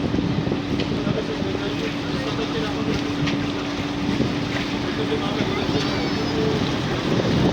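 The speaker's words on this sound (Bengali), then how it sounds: "ওয়াটার বোট চলার জায়গা আছে, রাস্তা আছে।" A water boat motoring along a canal in Venice, a steady low engine hum with water wash and wind buffeting the microphone, continuous and fairly loud.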